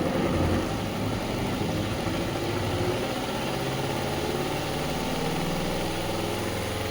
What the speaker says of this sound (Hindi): फिर स्विच ऑन करके फिर आपने ये स्पिन करना है।